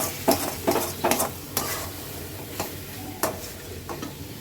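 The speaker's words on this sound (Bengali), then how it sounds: "নারকেলের পুর হচ্ছে।" Coconut filling stirred and cooked in a pan, a spoon scraping and knocking in an uneven rhythm over a soft low sizzle, close by, no voices.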